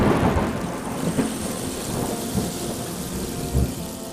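A cartoon rainstorm plays: a steady wash of heavy rain with low rolling thunder rumbling underneath and a few louder thumps near the end.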